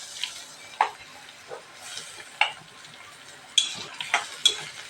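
Boiled bamboo shoots drop into onions frying in a pan, giving a steady low sizzle broken by several sharp clatters and stirring knocks, close and moderately loud, with no talking.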